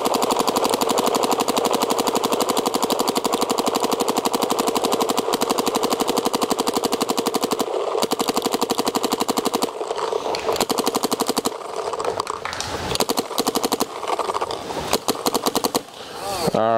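Paintball markers, a Planet Eclipse Etha 2 and an Empire Mini GS, fire outdoors in long rapid streams of sharp, evenly spaced pops, steady at first and then more broken toward the end.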